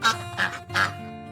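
Three distinct duck quacks ring out one after another in close succession, clear and near, alone without talk.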